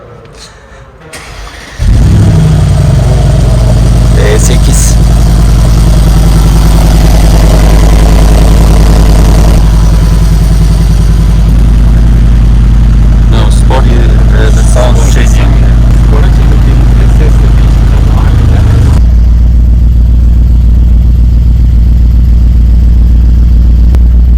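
A car engine cranks and catches, then settles into a loud, steady idle for about twenty seconds before the tone shifts lower near the end. People talk in the background.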